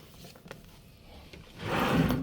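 A single cabin drawer slides open or shut with a brief rushing scrape in a balcony stateroom aboard the cruise ship Brilliance of the Seas, following a few faint knocks.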